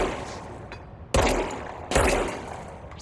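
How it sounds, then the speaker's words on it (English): Two loud gunshot blasts from the video game Control ring out about a second apart, each with a sharp attack and a decaying tail over a quieter background hum. "I do like shooting defenseless corpses."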